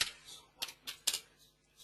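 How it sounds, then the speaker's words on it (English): Computer keyboard typing during a farm animal health plan data entry: a few sparse, faint clicky keystrokes spaced irregularly in a quiet room. "And then it's just going through and typing in the farm details"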